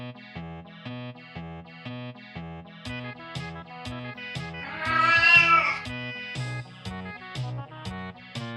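A cat meows in a quick, regular run of short cries with a processed, electronic tone, rising to one louder, drawn-out yowl midway before the steady pattern resumes.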